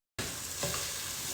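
A spoon stirs shorba soup in a pot, a steady, close, sizzling scrape with one brief knock partway through and no voices.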